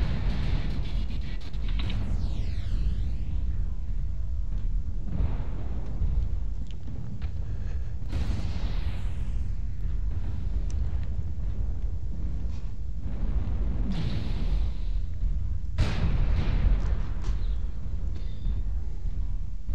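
Missile explosions in the mech combat game MechWarrior Online: a dense, continuous low rumble with several louder blasts bursting through at intervals, close and heavy.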